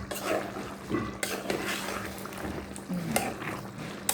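Biryani being stirred in a frying pan that slides around on a faulty home stove, with clattering pan and utensil scrapes over a steady simmer, close and moderately loud throughout.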